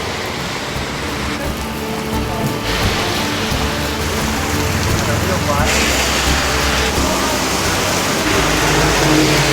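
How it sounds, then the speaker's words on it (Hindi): Steady, loud rain pours down continuously in the mountains, a dense wash of patter close by with no break. "लेकिन बारिश लगी है अब"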